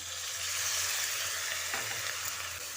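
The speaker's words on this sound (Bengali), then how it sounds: "দেখুন মশলা থেকে তেল ছেড়ে এসেছে এবার এখানে অল্প একটু জল দিয়ে দিচ্ছি" Spice paste frying in oil sizzles steadily and fairly loudly, with a brief burst near the end as a little water hits the hot pan while it is stirred.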